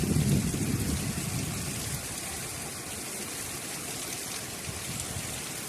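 Heavy rain falls with rainwater streaming and running nearby, a full rushing hiss that is louder at first, then settles into an even, continuous flow.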